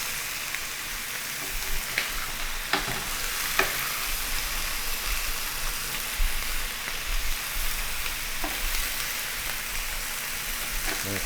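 Swordfish steaks hissing on a hot grill as they are turned, a steady bright sizzle with a few soft clacks of the turner against the grate, close and continuous.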